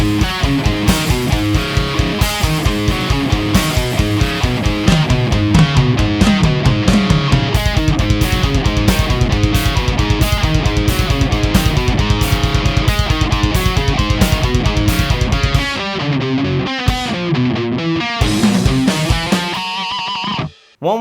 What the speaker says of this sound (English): here's the whole riff with a backing track slowed down